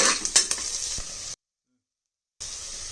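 Onions and curry leaves sauté in hot oil, a close, crackling sizzle with several quick stirring scrapes. About a second of dead silence breaks it before the sizzle resumes.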